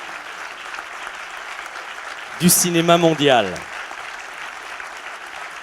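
Steady applause from a seated audience at a film masterclass with David Cronenberg and Howard Shore, continuous clapping throughout with someone speaking briefly over it midway.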